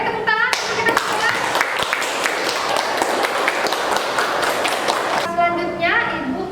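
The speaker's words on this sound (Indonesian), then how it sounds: "tepuk tangan untuk kita semua" Schoolchildren in a classroom clapping together, a loud burst of rapid, overlapping hand claps lasting several seconds, framed by bright tonal sounds at the start and end.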